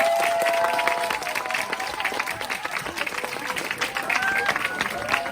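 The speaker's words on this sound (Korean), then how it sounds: "힘찬 박수 부탁드릴게요." Energetic applause from an audience welcoming a speaker, a sustained mass of clapping with voices and cheers mixed in, staying strong for over five seconds.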